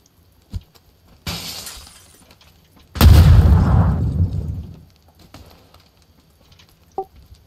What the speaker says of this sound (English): That grenade destroyed my sound.